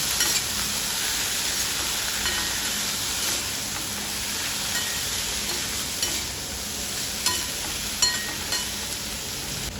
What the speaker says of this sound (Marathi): धुतलेली ब्रोकोली त्यात टाकून मी चांगले परतवून घेणार आहे